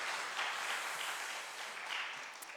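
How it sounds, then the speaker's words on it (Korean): Applause from a church congregation at a Wednesday worship service, a steady, fairly soft patter of many hands clapping alone for a few seconds, with no talking over it. "하나님께 영광, 박수 한번"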